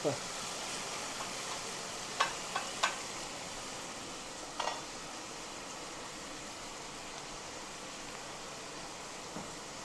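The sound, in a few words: tomatoes, pimentos and hot pepper cooking in pan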